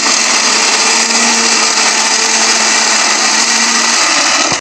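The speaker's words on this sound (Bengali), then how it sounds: "বাদাম ব্লেন্ডার করা শেষ" A kitchen blender grinding peanuts, a loud, steady high-pitched whirring roar that runs without a break and then cuts off abruptly at the end.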